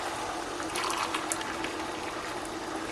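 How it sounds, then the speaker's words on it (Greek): Water pours from a cup into a pot while cooking a one-pot orzo dish with cherry tomatoes, a steady splashing trickle, close and continuous. "Με το ίδιο φλιτζάνι που μετρήσαμε το κρυθαράκι θα βάλουμε 3 φλιτζάνια νερό."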